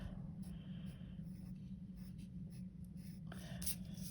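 A pencil draws and shades on paper with soft, continuous scratchy strokes, faint and close, over a steady low background hum.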